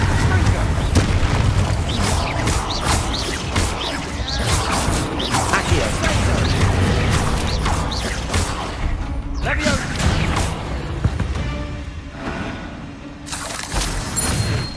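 Explosive Bombarda and Confringo spells in Hogwarts Legacy burst repeatedly in quick succession, heavy booms and crashes layered over game music and a voice shouting spell names, with rumbling debris between blasts.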